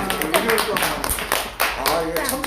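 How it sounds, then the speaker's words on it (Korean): Applause from an audience at an outdoor civic forum in a city square, dense clapping sustained at moderate loudness with a voices mixing in. "박수 한번 하고."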